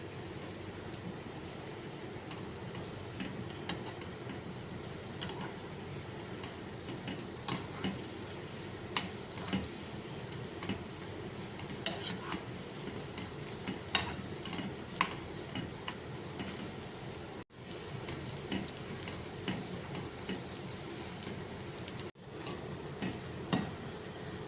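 Pieces of boiled chicken pakoda fry in hot oil in a pan, giving a soft steady sizzle broken by scattered ticks and scrapes as they are stirred, with no voices.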